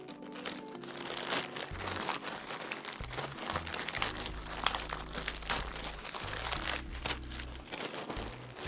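A plastic bag holding UK Custom Covers seat covers for a Ford Transit Custom Sport crinkles and rustles close up in irregular bursts, with low background hum and no talk.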